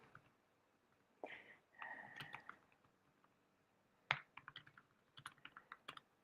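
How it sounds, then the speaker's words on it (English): Quiet, close typing on a keyboard in short irregular bursts of taps and clicks, with pauses between. "I'm just typing. You hear my tippy taps?"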